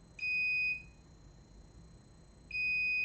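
A bench power supply tripping into short-circuit protection while an iPhone 7 tries to power up gives two steady high-pitched electronic beeps, each about half a second long, roughly two seconds apart, clear over a quiet room.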